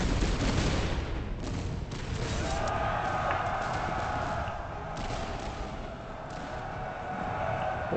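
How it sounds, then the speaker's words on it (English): A cannon volley firing solid shot at cavalry in a Master of Command battle game: a dense, rumbling roll of overlapping booms and gunfire spread across the battlefield, continuous and moderately loud, with no voices. "The cannon got a decent volley into the cavalry, but he fired solid shot, not great."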